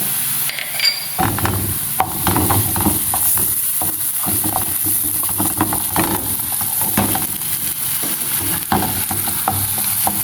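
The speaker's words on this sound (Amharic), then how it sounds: "ነጭ ሽንኩርቱን ከጨመርኩት በኋላ ትንሽ አበስለዋለሁ ከቀይ ሽንኩርቱ ጋር" Chopped garlic and red onion fry in a pan, a steady bright sizzle with repeated scraping and knocking strokes of a spoon stirring through the pieces, close and loud throughout.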